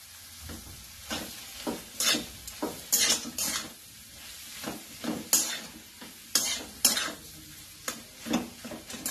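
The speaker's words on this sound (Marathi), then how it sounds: "आता याच्यामध्ये हे पूर्ण मिश्रण ह्याच्यामध्ये घालून चांगलं हलवून घ्यायचं" Pakoda batter mixture being stirred in a bowl, with irregular scraping and clinking strokes of a spoon against the vessel, close and fairly loud, with no talking.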